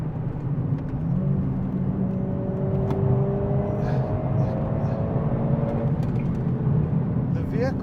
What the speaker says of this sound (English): the tone from this 2-liter motor just sounds absolutely incredible